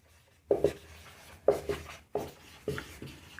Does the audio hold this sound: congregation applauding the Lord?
no